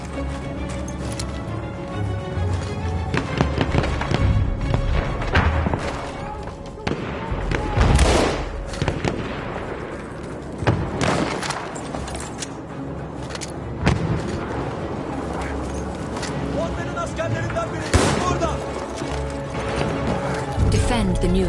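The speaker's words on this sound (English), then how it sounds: "The enemies are being halted by our artillery barrage." Battlefield 1 artillery barrage: repeated booming impacts and bursts scattered through a dense, loud wartime din of battle noise, with no clear pauses between blasts.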